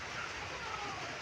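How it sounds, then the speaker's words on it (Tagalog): Cold, heavy rain pours steadily during a sea-urchin eating session amid big waves, a dense, continuous hiss of drops close by with no distinct individual hits. "Ang ginaw-ginaw ng ulan."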